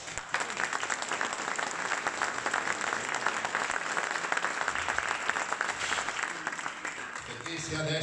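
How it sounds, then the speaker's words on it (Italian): Sustained applause from an audience at a museum open day and inauguration in Jesolo, Italy, honoring Roberto Basso: steady dense clapping throughout, thinning slightly near the end, with some voices beneath. "che merita un applauso"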